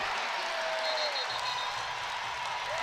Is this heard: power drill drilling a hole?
no